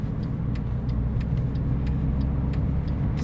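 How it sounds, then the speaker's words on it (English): Road traffic on an expressway, a steady loud wash of car engines and tire noise with faint rhythmic ticks, continuous and close, with no talk. "Look at all that soft side traffic."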